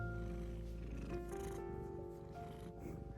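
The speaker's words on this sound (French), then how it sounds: "Qui ronronne fort." A cat purring loudly at close range, a continuous low rumbling purr with steady rhythmic pulses sustained for a few seconds, with quiet background ambience and no talking.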